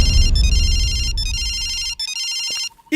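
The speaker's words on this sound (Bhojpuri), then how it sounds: "यहाँ से घंटी का आवाज आवता।" A mobile phone ringtone rings from where the phone lies nearby: loud, steady electronic chimes in repeated bursts with short gaps, over a low background rumble that fades toward the end.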